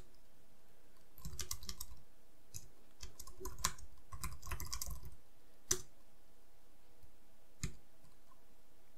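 Typing on a computer keyboard in short bursts of clustered keystrokes separated by pauses, with a couple of isolated sharper clicks, close and fairly clear against a quiet background.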